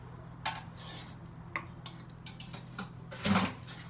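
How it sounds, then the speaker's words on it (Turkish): Stirring ayran soup with barley vermicelli in a pot: faint, scattered clinks and taps of a spoon against metal over a low steady hum, with one louder scrape near the end. "Karıştırın"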